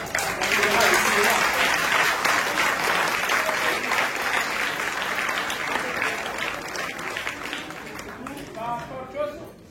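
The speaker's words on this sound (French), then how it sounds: "On a applaudi Gérald pour la solo" Audience applause for Gérald's solo at a Montbazin choir concert, a dense sustained ovation of many hands that holds steady for nearly ten seconds before thinning near the end, with voices mixed in.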